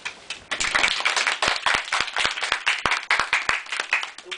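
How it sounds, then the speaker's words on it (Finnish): Classroom applause on the last day of a Finnish language course, a round of clapping for a student, with dense overlapping hand claps that begin softly, swell after a moment and then hold steady and lively throughout. "Tupla aplodit"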